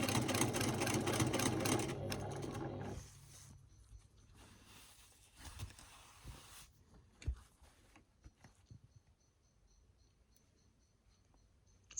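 A sewing machine doing free-motion quilting of feather flowers and crosshatching runs loudly for about three seconds, then stops, leaving faint scattered clicks and small handling taps.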